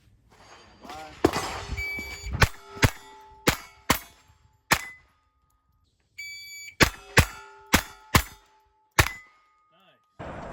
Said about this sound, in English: a couple of those stages from a Steel Challenge match I shot with the Taurus TX22 Competition SCR